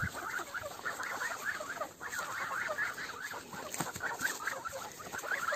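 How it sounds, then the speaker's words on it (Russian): A flock of geese honks and chatters continuously nearby, overlapping calls rising and falling without pause. "Да, шустрые гуси-то."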